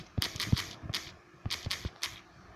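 Keyboard typing during a Minecraft Lifeboat Skywars session: about eight sharp clicks in two loose clusters across under three seconds, close and fairly quiet, with no talking.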